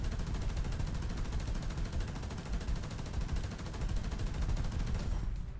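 Dense, rapid anti-aircraft gunfire in War Thunder, a continuous rattling stream of shots at steady loud level that cuts off near the end.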